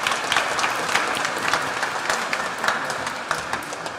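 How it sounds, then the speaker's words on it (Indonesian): A congregation claps together at a Christmas Eve night mass, dense, steady applause filling the church at close range for the whole stretch, with no voices over it. "kita tepuk tangan sekali lagi untuk kita semua"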